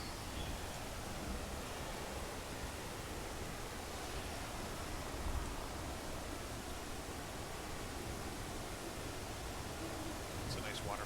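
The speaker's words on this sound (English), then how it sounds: "It's a nice waterfall." Steady, broad rushing of a waterfall in the fantasy game Guild Wars, a constant even wash of falling water that holds at one level throughout with no distinct events.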